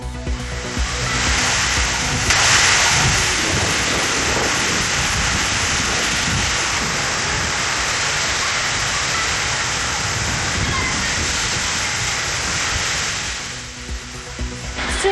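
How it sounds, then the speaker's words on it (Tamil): Heavy rain pouring down amid strong wind, a dense, loud, continuous hiss of falling water that stays steady for about fifteen seconds before easing slightly at the end. "பலத்த மழை."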